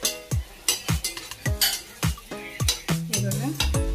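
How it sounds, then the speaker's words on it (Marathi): An anarsa sweet made with powdered sugar fries in hot oil as oil is ladled over it. About eight ringing metal spoon clanks against the pan sound in a steady rhythm over a continuous sizzle. "अशा प्रकारे आपल्याला अनारशावरती तेल टाकायचं आहे।"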